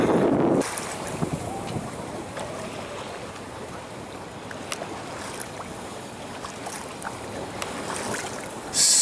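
A small sailboat moves along on flat water in steady wind, with a soft, continuous rush of wind and water, low and fairly quiet, and occasional light knocks.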